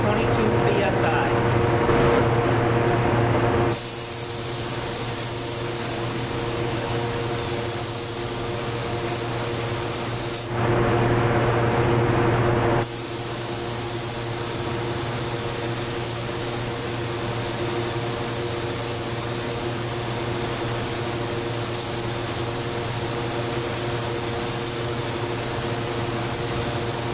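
A spray gun sprays the first stage of a three-stage pearl white coat on a 1968 Camaro at about 20 to 22 psi, a loud steady hiss that drops and resumes in long passes.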